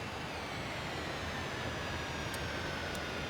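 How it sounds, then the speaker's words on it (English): Jet engines of a Dornier Do-31 in Microsoft Flight Simulator spool down after the fuel is cut, giving a steady broad roar with a faint falling whine, loud and continuous with no voices. "what we'll do is just cut the fuel to these engines"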